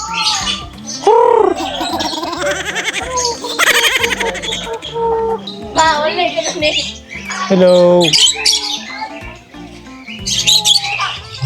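Bird squawks and chirps come in repeated bursts, close and fairly loud, with a voice speaking briefly among the calls.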